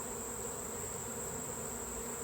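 Honeybees buzz steadily during a honey harvest, a constant close hum with a sharp high tone on top, alone and unbroken.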